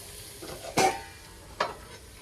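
Water splashed onto browning onions with turmeric in a hot pan in a mud house kitchen, giving two sharp bursts of sizzle, the first louder, over a faint hiss.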